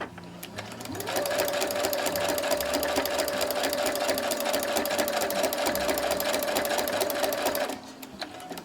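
A sewing machine stitches a straight line on a quilted pumpkin table runner, a steady fast mechanical whir with rapid needle ticking that runs about six and a half seconds, close and even, then stops abruptly.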